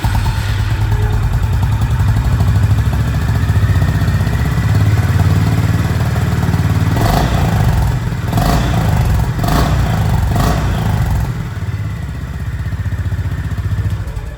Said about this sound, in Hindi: CB350 RS की जो एग्जॉस्ट साउंड है वो आप लोगों ने सुन लिया।